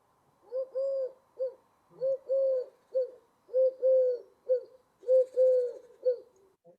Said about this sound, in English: Collared dove, 3 notes.